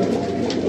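Low, throaty pigeon cooing from a breeding pigeon fills the short moment, steady and close, with a faint higher hiss in the background.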